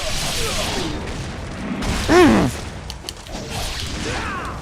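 Explosions and booming blasts in the action game Ninja Gaiden Sigma 2 Black, with a dense rumbling clash of whooshes and impacts throughout and a loud tonal burst in the middle, under someone talking.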